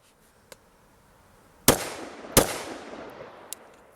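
Two sharp, loud AR-15 rifle shots fired at a range target, spaced under a second apart, each followed by a short echoing decay, with fainter distant pops before and after.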